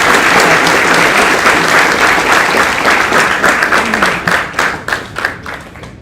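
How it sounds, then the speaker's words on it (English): A loud, dense round of applause from a university audience greets a guest of honor, holding strong before thinning into scattered claps near the end. "I request you all to welcome him with a huge round of applause."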